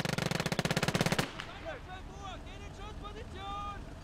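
A rapid burst of loud machine gun fire in Gates of Hell for about a second, then stops, leaving wind and scattered whistling game sounds.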